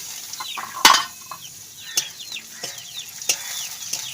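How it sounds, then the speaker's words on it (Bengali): Chopped onions hit hot oil in a village-style Bengali kitchen pan, giving a soft sizzle with a few sharp metallic clinks and scraping stirs of a spatula. "পেঁয়াজ কুচিগুলো দিয়ে দিচ্ছি।"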